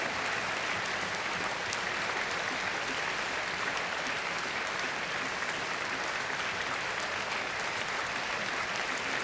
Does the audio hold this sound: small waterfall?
no